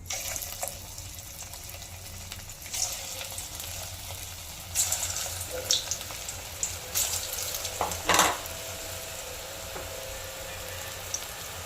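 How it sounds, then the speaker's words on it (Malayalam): Falafel frying in hot oil over a medium flame, giving a steady, fairly quiet sizzle with occasional louder crackling bursts and no voices. "എണ്ണ നല്ലോണം തിളച്ച് കിടക്കുക അതുകൊണ്ട് ഒത്തിരി ഫ്ലെയിമിൽ വെക്കണ്ട ഒരു മീഡിയം ഫ്ലെയിമിൽ വെച്ചാൽ മതി"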